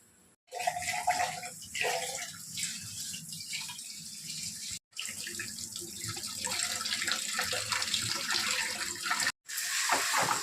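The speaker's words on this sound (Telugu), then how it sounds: "అప్పుడు నేను ఎసరు పోసుకుంటాను" Water from a tap poured into a pot for cooking rice, a steady gushing fill with faint metallic rattles, close and loud, broken by two short gaps.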